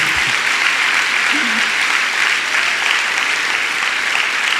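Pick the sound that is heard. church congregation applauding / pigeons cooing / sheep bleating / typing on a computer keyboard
church congregation applauding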